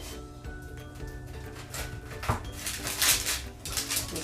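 A serrated knife saws through homemade vegan breakfast bars, giving scraping, knocking cuts and a clatter of utensils against the board over faint background music, with no talking.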